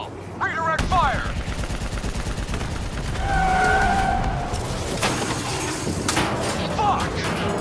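Rapid gunfire bursts crackle through a Call of Duty Black Ops 3 combat scene, mixed with vehicle engine noise and explosions, while soldiers shout over the chaotic battle.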